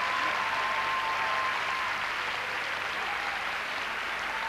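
A dance competition crowd bursts into sustained applause after a slow foxtrot, a dense, even clapping that holds steady throughout, with a faint whistle riding over it.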